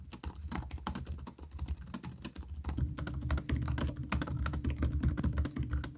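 Rapid typing on the keyboards of two 16-inch thin gaming laptops, a 2026 Razer Blade 16 and an ASUS Zephyrus G16, gives a dense, steady patter of clicky and thumpy keystrokes that is close and alone.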